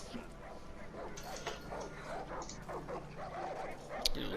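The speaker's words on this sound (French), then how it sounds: "Oh, il y a des chiens." Dogs in the video game Far Cry 5 barking and yipping in short bursts over a busy game soundscape, with a voice talking faintly underneath.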